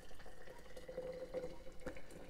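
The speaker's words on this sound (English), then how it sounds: "And I put it in the sink and I fill it with boiling water." Boiling water pours into a mason jar with a stainless steel lid standing in a kitchen sink, a quiet steady trickle and splash with faint gurgles, heard close with no talking.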